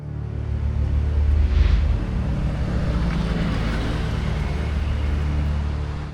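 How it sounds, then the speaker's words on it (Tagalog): Traffic on Kennon Road in Benguet rumbles past as a steady, loud roar, one vehicle swelling closer for a moment before the sound settles back into a continuous wash of engine and road noise. "maririnig mo ang ingay ng mga dumadaang sasakyan."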